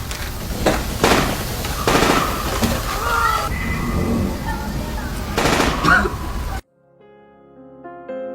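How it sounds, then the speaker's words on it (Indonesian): Gunfire sound effect in a narrated story about conflict, with rapid machine-gun bursts and scattered single shots filling the first six seconds, loud and close, followed by a sudden cut to near silence with faint tones. "Tiba-tiba suara tembakan terdengar lagi."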